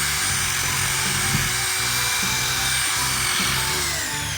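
Rotary tool fitted with a brush polishes a rusty axe head, giving a continuous high-pitched whine with slight grinding fluctuations as the brush presses against the metal, close and steady.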